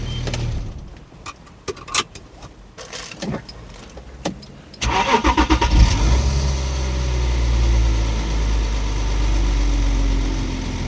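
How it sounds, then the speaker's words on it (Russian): A car engine idles close by and makes an odd, uneven noise, a steady low hum that settles in after several sharp clicks and knocks, with no talking. "Хутур-мутур делает моя машина."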